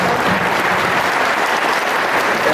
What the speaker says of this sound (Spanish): damos un aplauso más al doctor